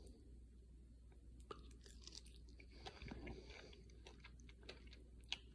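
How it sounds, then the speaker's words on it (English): Close, quiet chewing of a Bourjasotte Gris fig, with repeated small crunches and clicks of the seeds in an irregular rhythm against a faint low hum, no talking. "Good seed crunch too."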